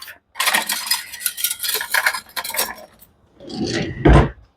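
A knife is picked up in a kitchen while brie is being prepared, giving a few metallic clinks and rattles of cutlery with short quiet gaps between them.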